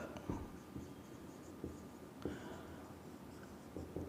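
Chalk or marker writing on a board during a physics lecture on Ampere's circuital law, faint scratchy strokes and taps in an irregular rhythm, quiet and close, in a room with low background hum.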